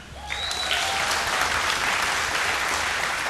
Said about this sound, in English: Please give a huge round of applause for our guest judge